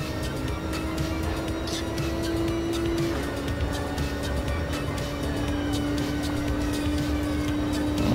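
A Gr.3 race car engine in a racing video game at Circuit de la Sarthe drones steadily and loudly with a sustained tone that shifts slightly in pitch partway through, with no talking.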